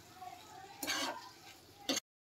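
A spoon scrapes and stirs through a curry in a pan as turmeric is mixed in, a short burst of stirring followed by a brief clatter before it stops.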